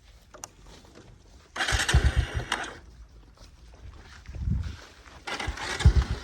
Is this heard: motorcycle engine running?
yes